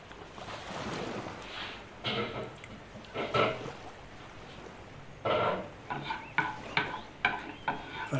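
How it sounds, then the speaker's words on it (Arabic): Onion with salt sautéing in a pan, a soft, steady sizzle broken by scraping stirs that grow more frequent toward the end, with no talk. "فنخليو البصله تشحر، البصله قاصحه نخليوها تشحر مزيان حتى تطيح"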